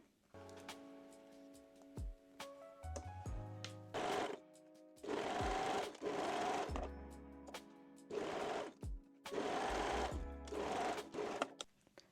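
A domestic sewing machine runs in several short bursts, stitching the short edges of fabric bands for a binding finish. The motor whirs loudly and close, with quiet pauses and clicks between the runs.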